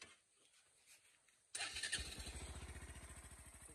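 A motorcycle being cold-started for an off-road ride in the Karsog valley: a quiet outdoor background, then the engine suddenly catches and settles into a loud, close, rapidly pulsing idle that continues to the end.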